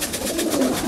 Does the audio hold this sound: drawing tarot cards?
no